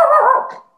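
A hunting dog lets out a single short, loud bark nearby that trails off quickly.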